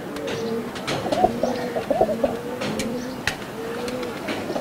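Highflyer pigeons coo softly and repeatedly from close by, with low rolling calls recurring throughout and a few faint chirps and clicks over a steady background hum.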